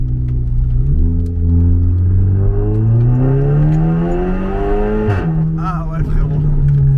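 An Audi TTS MK2 with ABT tuning accelerates hard, its engine note climbing steadily through the revs, dropping briefly at a gear change, then pulling again, loud and close throughout.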